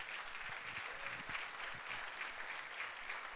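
Congregation applauding at a church service, a steady broadband wash of clapping held at a fairly even level throughout.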